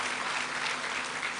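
A dense round of applause from a large audience at an onboarding and matriculation ceremony, a continuous, even roar of many hands clapping, fairly loud and unbroken for the whole moment.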